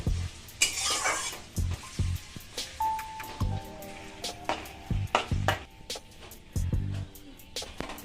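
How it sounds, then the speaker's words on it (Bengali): Whole onions fry in oil after a chili tempering for a spicy fish curry, a low steady sizzle broken by repeated spoon-stirring clatters and clinks against the pan. "এই গোটা পেঁয়াজগুলো আমি হালকা লাল করে ভেজে নেব"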